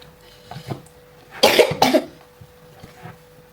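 A single sudden sneeze in a home kitchen, a sharp double burst of breath up close, with quieter background sounds around it.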